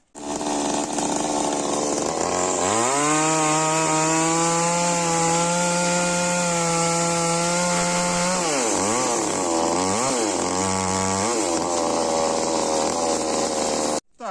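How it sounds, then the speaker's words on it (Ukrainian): Gas chainsaw cutting through a larger round log, loud and close, the engine idling briefly before revving hard into a long steady cut, then dipping and surging as it finishes. "попробую продемонструвати, як він пиляє більший кругляк"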